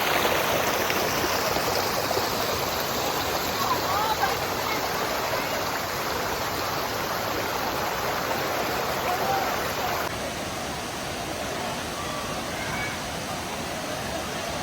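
Lakkom waterfall and its stream in Munnar rush steadily nearby, a dense, continuous broadband roar of falling and flowing water that holds even throughout and softens slightly toward the end.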